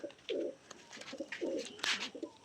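Pigeons in a loft coo in several soft, rolling calls that come close together and fairly near, with quiet rustling between them and no talking.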